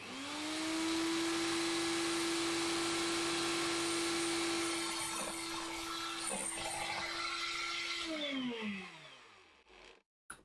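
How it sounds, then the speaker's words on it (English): A small powered saw blade hums at a steady high pitch while trimming the edges of wooden gratings for a 1/84 HMS Victory model, with scraping cuts mixed in, then winds down and stops near the end. "pull it back, turn the blade on, and then just trim off these edges"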